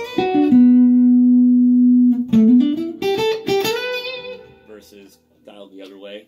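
Godin Ultra A6 acoustic-electric guitar played through its electric pickup gives a held single note, then a few quick bent and rising notes, close and clean, before fading out.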